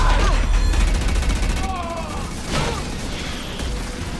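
Rapid gunfire with incendiary ammo in the video game Mass Effect 2, a dense rattling fusillade with booms and crackling over the first seconds, then fading under game sounds and a voice.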